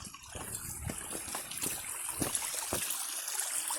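Mountain spring water in the Uttarakhand hills flows in a steady, close, continuous wash with small splashy trickles, and no talk over it.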